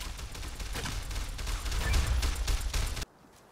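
A dense burst of rapid gunfire from the video game Fallout New California rattles for about three seconds, loud and continuous, then cuts off abruptly into quiet.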